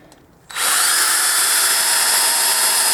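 A power drill bites into a broken bolt on a pit bike, starting abruptly after a brief pause and then running at a loud, steady high whine close to the listener.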